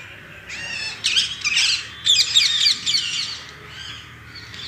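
An Asian koel and crows call in a garden in the morning, with clear chirping and squawking bursts rising over a quiet outdoor hush and no talking.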